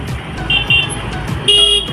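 Two motorcycle horn honks, one short and one longer, weak from a low battery, sounding over steady road noise and engine rumble.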